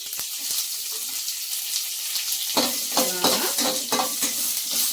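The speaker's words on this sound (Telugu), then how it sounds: "కొంచెం పోపు పెట్టేసుకున్నాం అంటే" Constant crackling sizzle of spices, dried red chili and curry leaves tempering in hot oil, close by, with a few sharp pops and a short stretch of utensil scraping.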